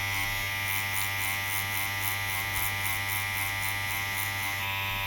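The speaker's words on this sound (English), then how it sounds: "First I work on the large areas with the big needle, but not directly at the edge." Tattoo machine running with a large needle on skin while shading broad areas, giving a steady, close electric buzz with a constant low hum and no pauses, heard alone.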